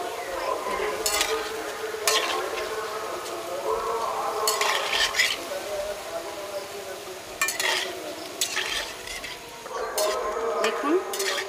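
Gulab jamun balls fry in hot oil, a continuous soft bubbling sizzle punctuated by several short bright scraping or stirring bursts, close up with no voices.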